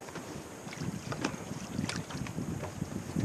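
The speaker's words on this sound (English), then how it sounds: "Wind picked up a bit, eh?" Gusty wind buffets the microphone on a boat over lapping water and faint boat creaks, a rough, fluctuating rumble without any talking.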